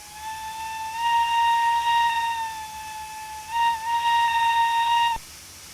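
Steam whistle of a Wayside Works Seaham No.18 locomotive in a train simulator game, quilled so the pitch swells and dips, sounding two long loud blasts, the second rising again before a sharp cutoff.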